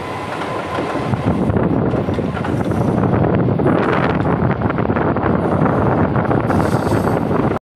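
An EMU local train carset on the Howrah to Belur Math line roars past at close range, a loud continuous rumble and rattle with wind buffeting that cuts off abruptly at the very end.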